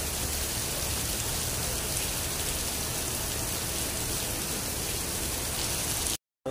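Heavy rain while driving through Cavite toward Dasmariñas and General Trias, a dense constant hiss of downpour on the car, steady throughout before cutting out briefly at the end.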